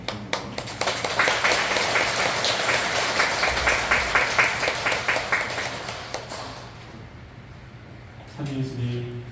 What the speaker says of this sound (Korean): 큰 박수로 모셔보도록 하겠습니다.